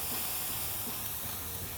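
Ribeye steaks sear on the sear zone of a 2025 Weber Spirit four-burner gas grill, giving a steady, close, broadband sizzling hiss that holds without a break.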